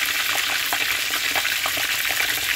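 Escovitch snapper or yellowtail frying in hot oil in a pot, a loud, dense, continuous sizzle with crackling bubbling, close up and steady throughout, no voices.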